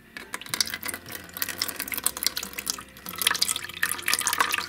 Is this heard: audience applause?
no